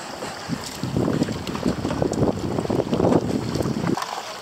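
A motor ship under way at sea near Gurzuf, with a rumbling wash of water and engine mixed with buffeting wind noise on the microphone, swelling and steady, then dropping off at the end.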